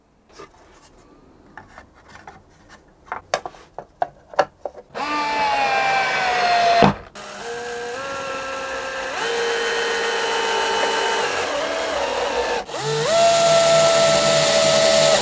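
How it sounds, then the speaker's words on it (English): A violin back is clamped and screwed onto a workshop mold: a few sharp clicks and knocks come first, then long whining runs of a screwdriver or drill driving screws, close and loud. "Let me start by clamping and screwing the back onto the mold."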